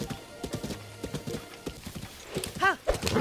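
Horse hooves clip-clop at a gallop in The Legend of Zelda: Breath of the Wild, a steady rhythmic beat running the whole way under a man's speech, with a brief horse whinny near the end.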